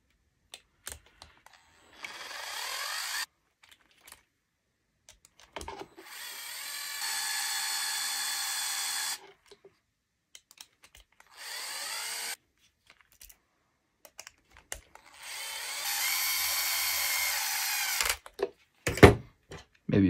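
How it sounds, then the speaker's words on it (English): An electric screwdriver drives screws into a Tekno SCT410 2.0 RC truck build, four separate whirring bursts of a few seconds each, close and clear with quiet pauses and small handling clicks between. "I'm going to finish driving those in with my electric screwdriver here."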